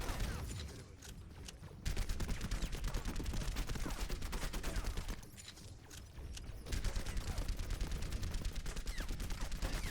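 Soldier's rifle in the Overwatch video game fires in long sustained automatic bursts, a steady rapid crackle broken by two brief pauses, fairly quiet and without talk.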